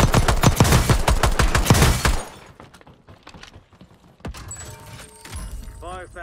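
Rapid assault-rifle bursts from the video game Warzone BO6, fitted with a heavy-recoil AR setup, crack loudly in dense volleys for about two seconds, then thin out into scattered impacts and game effects.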